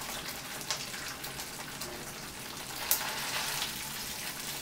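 Faint, steady sizzle of vegan gluten-free dinner food frying in a pan, a soft crackling hiss with a couple of small pops, heard close and alone.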